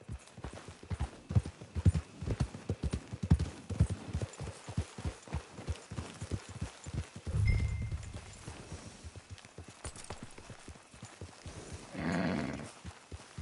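Horse hooves clip-clop steadily while riding in a PS4 video game, an even, close rhythm of muffled hoof beats with brief snorting swells and no talk.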